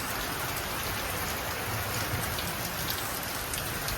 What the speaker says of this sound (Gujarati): તમે જો વરસાદ ચાલુ હોય જોરદાર ચાલુ છે